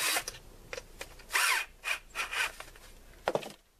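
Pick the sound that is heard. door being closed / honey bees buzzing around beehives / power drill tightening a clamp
power drill tightening a clamp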